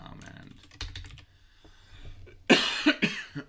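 A person coughs several times in quick, harsh bursts near the end, loud and close, after a stretch of soft computer keyboard typing.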